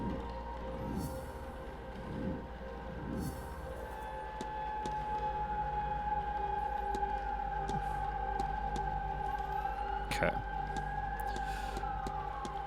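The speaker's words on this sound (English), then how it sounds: "Apologies for the siren sounds." Emergency vehicle sirens coming in from outside through an open balcony, a faint, sustained wailing tone drifting in the distance over a low room hum, with a single brief spoken word near the start.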